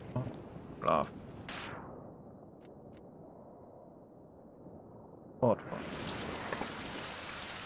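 Rain in the survival video game Survival Fountain of Youth starts as a sudden steady hiss after a quiet stretch broken by a couple of sharp knocks, building to a dense, close downpour by the end.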